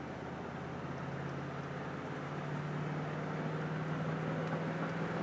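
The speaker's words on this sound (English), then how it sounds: "Just show you guys the vehicle running through the gears and driving." A 1979 Ford Bronco drives along, a steady low engine and road drone heard from inside that swells slightly partway through, with no voices.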